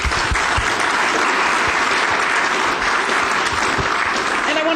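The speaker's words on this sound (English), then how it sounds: "we should give Glenn and Micah another round of applause." A seminar audience gives the speakers a dense, sustained round of applause, with many hands clapping loudly and evenly throughout.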